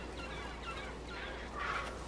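A bird in the adventure game Broken Age gives a short, fairly quiet fowl-like squawk and clucking over a faint steady background hum.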